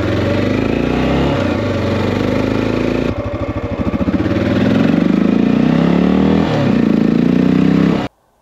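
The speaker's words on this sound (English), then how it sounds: "And during easy, low-speed acceleration" A close 2023 Honda XR650L motorcycle engine with a side panel air intake pulls with a deep, throbbing burble during easy low-speed acceleration, pitch climbing gradually in steady surges before cutting off abruptly at the end.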